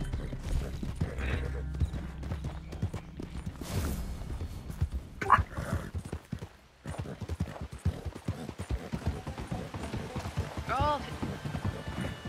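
Horse hooves clip-clop steadily in a video game, a rhythmic trotting that runs through most of the stretch, mixed with game sounds and a talking voice.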